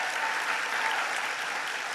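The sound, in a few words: audience applause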